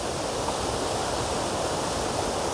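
Rajupalem waterfall near Divili in Andhra, running at reduced flow, makes a continuous broadband rush of falling water, steady and fairly close, with no voices.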